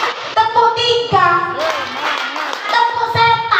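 A group of children claps on cue in a lively classroom chant, sharp hand claps breaking through close, overlapping young voices and group chanting.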